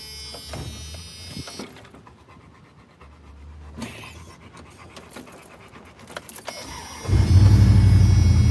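A car engine cranks with a few uneven bursts and breathy noises, then catches near the end and settles into a loud, steady idle close by.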